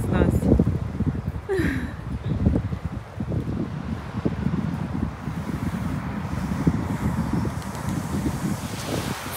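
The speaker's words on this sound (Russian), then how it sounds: "Слушайте, ветер обалдеть." Strong, cold seaside wind in Sochi buffets the microphone with loud, continuous low rumbling gusts from start to finish, with a voice heard faintly in places beneath the roar.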